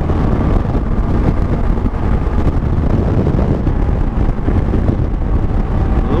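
Steady, loud wind buffets the microphone from a moving truck on the road, a continuous broadband rush with a low rumble underneath and no speech throughout.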